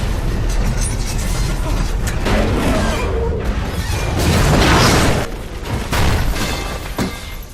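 A building explodes in a Die Hard action scene, a loud sustained roar of blast and crashing debris with rumbling low end and shattering bursts rolling over several seconds.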